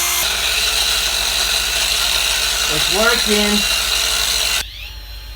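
A power sander runs steadily with a loud, close, constant whir and grinding hum, someone speaking briefly over it before the motor drops away at the end.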